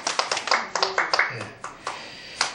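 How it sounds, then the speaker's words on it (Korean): A church congregation gives a short round of clapping to thank the hymn singers, with distinct, fairly close claps in a loose rhythm that thin out toward the end, while a voice speaks over them. "우리 한번 박수를 드리겠습니다"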